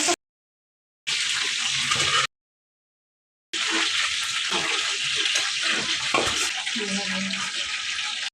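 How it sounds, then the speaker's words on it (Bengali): Chicken pieces rubbed with salt and turmeric sizzle in hot oil in a home kitchen, a steady bright hiss that cuts out twice in silent gaps before running on continuously. "এইভাবে সবগুলো মুরগি এখন ভাজা নিব।"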